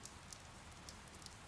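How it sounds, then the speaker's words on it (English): Rain in the video game Fire Emblem: Three Houses falls as a soft, steady patter with scattered sharper drop ticks, quiet and even throughout with no talk. "It's raining, Professor."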